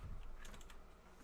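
A Steelseries Apex M500 mechanical keyboard gives a few quick, faint key clicks close up, with quiet room background around them.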